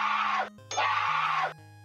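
Two drawn-out female screams from a sound-effect library, each about half a second, the second stronger and longer, slightly lo-fi in quality with a low steady hum beneath.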